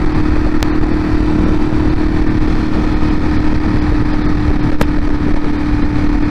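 A motorcycle rides steadily along the road with a loud, constant engine drone and rushing wind noise close to the rider, plus a couple of brief sharp clicks.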